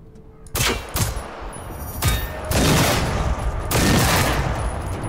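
Repeated bursts of gunfire in the video game Generation Zero, loud and close, with rapid volleys of shots and a sustained stretch of firing with no talk.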